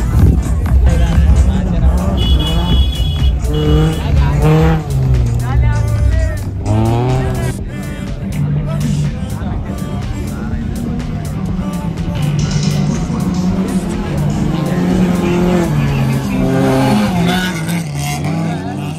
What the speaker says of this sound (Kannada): ನೆಕ್ಸ್ಟು 4 ವೀಲರ್ ರೇಸ್ ಸ್ಟಾರ್ಟ್ ಆಯಿತು